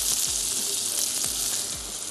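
Sliced white parts of onion hit hot fat in a pan and fry with a loud, continuous sizzle, a few soft stirring knocks underneath, no voices.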